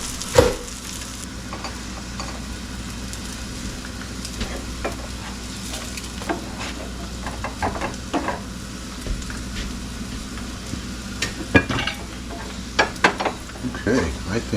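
Liver sausage frying in a pan, a steady close crackling sizzle throughout, with scattered spatter pops and a brief clatter near the start as it is flipped over.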